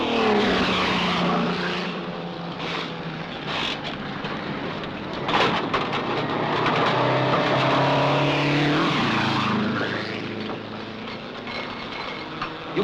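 A 1950s motor race: loud racing car engines roar past continuously, with rising and falling pitch sweeps as cars pass, dense and close throughout with no voices.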